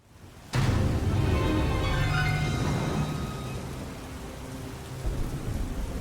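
A thunderstorm opens a video game intro: a sudden loud crack of thunder followed by steady heavy rain and a long rolling rumble that slowly fades, with no talk.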